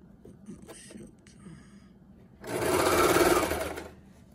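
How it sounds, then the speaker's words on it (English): A sewing machine stitches fabric for a circle skirt in one steady, loud whirring burst of about a second and a half, preceded by quiet handling noises. "So now I'm just gonna stitch a little bit regular so it won't bunch up."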